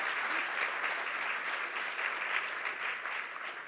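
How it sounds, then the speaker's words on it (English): Audience at a plenary session of an online safety conference applauds, a steady, even patter of many hands clapping from beginning to end, moderately distant with no voices on top. "Let's give them all a round of applause."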